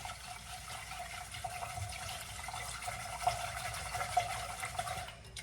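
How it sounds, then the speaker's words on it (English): Hands swish and stir rice in a bowl of water to wash it, making a continuous sloshing, gurgling water sound with a few sharper splashes, steady and close, without speech. "So we have water in the rice. Agitate it with your hands."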